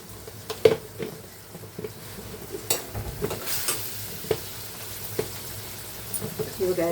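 Chopped tomatoes frying in oil for a prawn masala make a steady bright sizzle, with clinks and scrapes from a spoon stirring the pan and faint voices at times.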